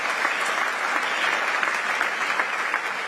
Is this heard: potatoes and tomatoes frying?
no